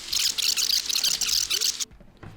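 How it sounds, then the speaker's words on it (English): Water pours briefly into a small pH test sampler, a close, bright splashing trickle lasting under two seconds, then stopping abruptly, followed by a faint tap. "Take a little bit of the water, put it in our sampler"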